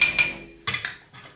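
Metal struck on an anvil while a goat bell is shaped, several close clanging hits with ringing tails in quick irregular succession, no talking.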